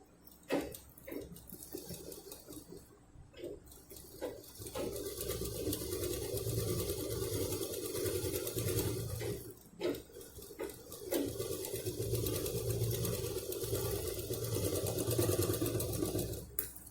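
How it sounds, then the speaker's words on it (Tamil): A sewing machine runs in long steady bursts, stitching cloth for a homemade fabric purse, its close motor whir broken by brief pauses and a few clicks. "இப்போ இந்த கிளாத்தை மேலே வச்சு ஒரு தையல்."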